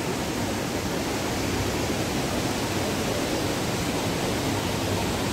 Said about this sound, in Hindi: देखो दूध की धार बहती हुई और एक शानदार झरना